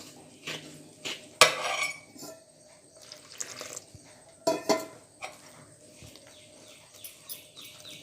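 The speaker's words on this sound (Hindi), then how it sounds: "इसको अच्छे से हम घोटेंगे। आटा अच्छे से मिक्स होना चाहिए।" Rice flour batter with salt and water being stirred in a bowl for a Konkani layered ghavne recipe, with irregular scraping and clinking knocks of a utensil against the bowl, a few sharper taps standing out.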